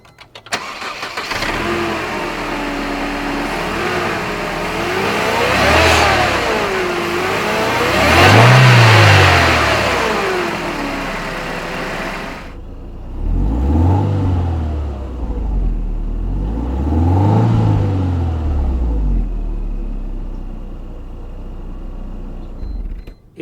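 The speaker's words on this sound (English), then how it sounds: "that beautiful powerful 4-cylinder with a supercharger hidden on the left hand side" A supercharged 4-cylinder in a 2002 Mercedes-Benz SLK 230 Kompressor revs hard several times, rising and falling close by, then settles into a steady idle broken by two more distinct throttle blips.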